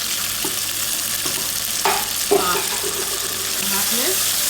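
Onion and tomato frying in a pan for kebab biryani, a continuous sizzle with a couple of stirring knocks and scrapes, and a brief muffled voice in the background.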